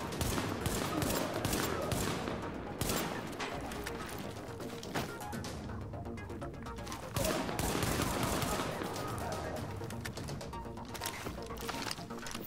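Pistol and other gunfire in the shooter game The Division, with repeated sharp shots and bursts over a busy, continuous game soundscape.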